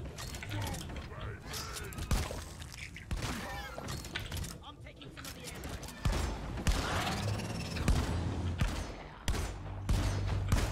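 Engineer's gunfire in Deep Rock Galactic, rapid bursts of shots with mechanical clatter, shattering impacts and creaks, busy and loud throughout with voices mixed in.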